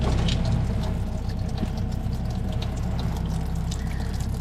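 Coolant drains from the old radiator of an OBS Suburban into a bucket, a continuous close splashing trickle over a low steady hum.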